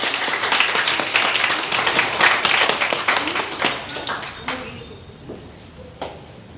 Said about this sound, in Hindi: तो एक बार उनके लिए जोरदार सोनिया जी के लिए ताली होनी चाहिए।